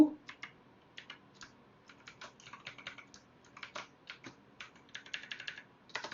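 Quiet typing on a computer keyboard during Python programming: irregular bursts of light, crisp key clicks, sometimes single taps, sometimes quick runs, close and soft against a near-silent room.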